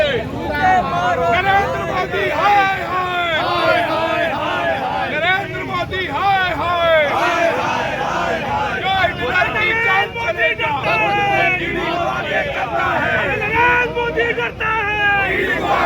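A dense crowd of Congress party protesters fills the space outside a district collector office, a loud continuous babble of many voices shouting and chanting together for the whole stretch.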